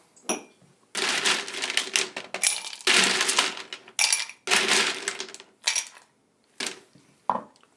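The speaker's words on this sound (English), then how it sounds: "I want some fresh ice in the glass." Fresh ice cubes dropped with tongs into a rocks glass while making holiday after-dinner drinks: a series of bright, close clinks and rattles arrive in uneven bursts with short gaps, loud and without talk.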